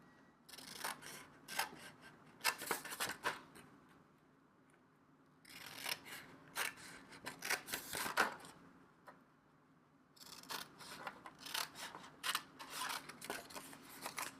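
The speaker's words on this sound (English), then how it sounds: "we're going to go ahead and cut every one of these all the way up to that last score mark" Scissors snip through scored paper card panels in three bursts of rapid, crisp cuts separated by quiet pauses, close and with no talking.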